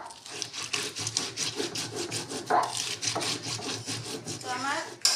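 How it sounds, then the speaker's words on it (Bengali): Coriander, cumin, ginger and chilli are ground by hand on a stone in a home kitchen, a close, rhythmic back-and-forth rubbing and scraping of about a dozen strokes, with faint voices briefly in the background. "মশলাগুলো বেটে নেব"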